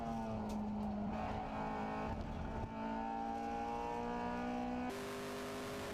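Race car engines, including a Mini, scream at high revs around the Rockingham circuit, holding steady tones that rise and then jump in pitch as one car shifts. Faint and distant behind the mix.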